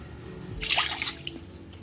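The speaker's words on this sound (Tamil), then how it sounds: "ஸோ அதனால் வந்து 4 டம்ளர் தண்ணி எடுத்துக்கிறேன்." Water is poured into a pan for rava kesari, a short splashing gush lasting about half a second, close and clear, then a few trailing drips.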